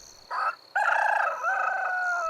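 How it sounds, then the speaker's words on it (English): A rooster crows alone and close by: a short opening call, a brief pause, then one long, loud cock-a-doodle-doo that holds and tapers over about two seconds. "And immediately a rooster crowed."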